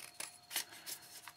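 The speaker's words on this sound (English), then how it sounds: "I'm just going to get my scissors and I'm just going to trim off" A few quiet, crisp snips of scissors trimming paper page flags, about four short cuts spaced unevenly across a brief moment, close and faint with no talking.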